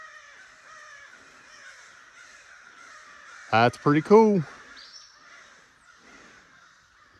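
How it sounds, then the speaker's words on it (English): Crows caw outside a cave, a quick cluster of three or four loud, harsh calls in the middle, with faint background sound before and after and a person speaking briefly. "You can hear the crows everywhere."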